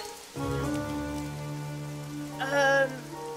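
Heavy cartoon rain pours steadily in an animated My Little Pony episode, a continuous wash of falling water blended with a sustained musical score, with no one speaking.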